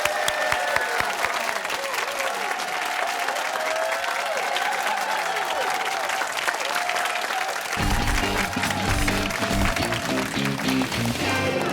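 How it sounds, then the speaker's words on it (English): A high school quiz show audience applauds in a sustained, dense round of clapping that carries on loudly throughout, thickening with extra low rumble toward the end. "Let's get a nice round of applause."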